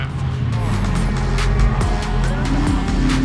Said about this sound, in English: A bunch of awesome cars are running the circuit right now.